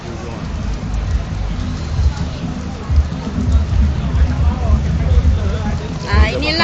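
Heavy rain pours steadily at the Bulatan Aman Jaya roundabout, a dense continuous hiss with low rumbling traffic underneath, loud and close throughout.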